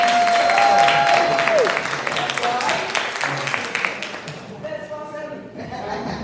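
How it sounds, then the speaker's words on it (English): A commencement ceremony audience gives a round of applause for a graduate named Jermaine, a broad clapping wash beginning loud and thinning out, with tonal whistle-like sounds and a voice cutting in near the end. "let's give a round of applause for Jermaine"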